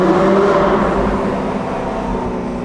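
A BMW M car with the S55 twin-turbo engine revs, its exhaust giving a loud raspy roar that peaks early and then settles into a steady throbbing drone.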